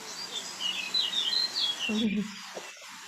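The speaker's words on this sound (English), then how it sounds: "It's a yellow hammer, so a beautiful yellow bird." A yellowhammer sings a series of thin, high, rapid notes from some distance across English farmland, fairly faint, followed by a low rustle close by.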